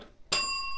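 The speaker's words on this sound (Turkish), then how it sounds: "Yine zili var bir tane." A single bright ding from a tap bell in the Trinkets board game rings out close, its metallic tone sustaining after the strike.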